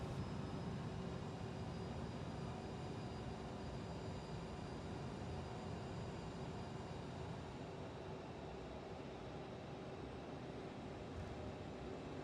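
Airliner in a flight simulator rolling for takeoff, a steady, heavy jet engine roar with a broad rumble that holds evenly throughout, moderately faint and with no talk.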